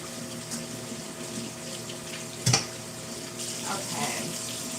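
Tap water running at a sink while drained beans are rinsed for bourbon peach baked beans, a steady faint stream with a sharp knock partway through and a brief splash near the end.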